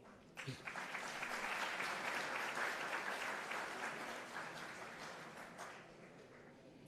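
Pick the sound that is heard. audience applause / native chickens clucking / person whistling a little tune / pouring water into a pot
audience applause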